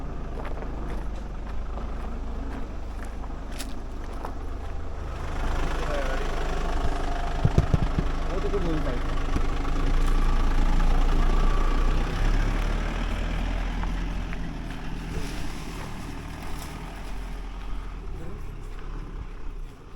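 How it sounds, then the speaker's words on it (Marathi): A car engine runs at a low, steady idle while the vehicle is parked inside a village house construction site, a deep constant rumble that swells slightly midway, with voices talking faintly underneath. "तिकडून आता आम्ही गाडी आतमध्ये लावणार"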